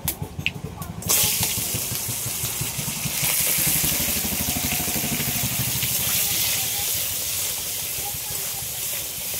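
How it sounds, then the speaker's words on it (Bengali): Crab coated in salt and turmeric frying in a pan with dried chilli and bay leaf, a sudden loud hiss and steady sizzle that continues, with a voice speaking over it. "সবগুলো একসাথে একটু হালকা করে ভেজে নিচ্ছি"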